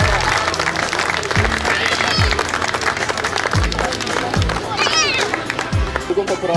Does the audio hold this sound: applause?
yes